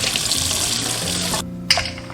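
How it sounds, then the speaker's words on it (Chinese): Running tap water rinses cooked pig trotters: a loud, steady rush of water close by that stops abruptly partway through, followed by a brief clink, with no voices. "我们先用流水把表面的杂质冲掉"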